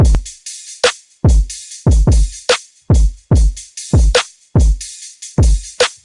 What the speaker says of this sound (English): one snare, one hi-hat loop that I just chopped and screwed.